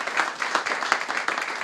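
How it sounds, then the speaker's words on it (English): Applause for host Harry Morton at a kickoff gathering in his Sunset Strip home: a dense round of steady clapping from a crowd, close and fairly loud. "give him a big round of applause for welcoming us into his home here on the Sunset Strip"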